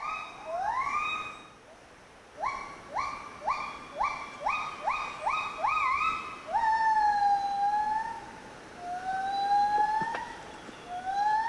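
Gibbon calls from a neighbouring group, played back in an experiment: a series of rising, whooping notes repeated in quick succession, then longer sliding wails that fade, moderately loud and with no voices.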